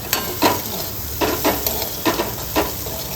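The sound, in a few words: stirring carrot and chilli sambharo in a pan with a spoon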